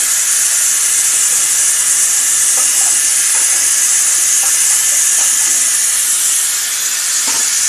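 Egg curry (dimer tok) with boiled eggs simmers in a pan, giving a steady close hiss and bubbling throughout with a few faint pops and ticks, no talking.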